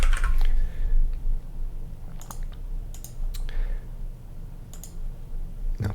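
Rapid clicking of a computer keyboard as a password is typed, with bursts of keystrokes separated by short pauses, fairly close and clear, with no talking.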